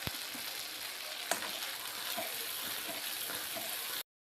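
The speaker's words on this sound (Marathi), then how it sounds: "आपण त्याच तेलामध्ये आपला हा वाटून घेतलेला मसाला आहे तो घालून घेणार आहोत" Ground masala for egg masala hitting hot oil, a steady close sizzle and frying hiss with a faint stir or clink, ending abruptly.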